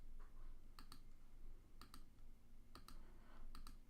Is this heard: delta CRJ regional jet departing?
no